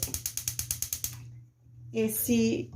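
A gas stove burner is clicked on beneath a pan of chopped bacon, giving a quick run of about ten sharp igniter ticks, then a short pause before a soft whoosh as the flame catches, close and fairly quiet.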